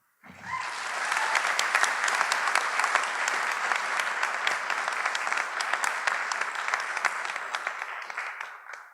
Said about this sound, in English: Please join me in applauding the effort and hard work by Shreem